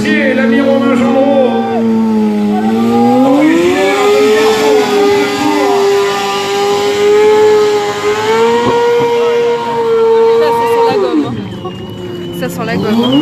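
A motorcycle engine at a stunt show, revving hard and holding high wavering pitches that rise and fall over several seconds, loud and close, with crowd chatter and voices underneath.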